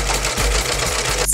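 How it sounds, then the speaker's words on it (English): Serger overlocking the edges of a drop cloth tote bag, a loud, fast mechanical whir running steadily up close with a brief hitch partway through. "Then we're going to serge the edges."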